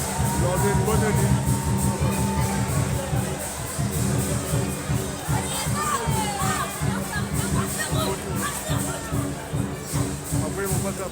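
A crowd at a Chinese New Year parade in Lyon fills the scene with a dense, continuous hubbub of many voices, children calling out and shuffling feet, steady and close throughout.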